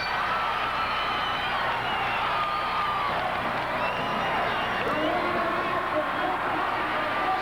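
A Memphis wrestling crowd at a tag team match cheers and roars without pause for the winners, Tommy and Eddie Gilbert, with a dense arena din under a commentator's voice.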